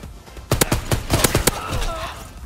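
Gunfire in a video game, a rapid burst of sharp loud shots over about a second, followed by quieter rattling and a player's voice.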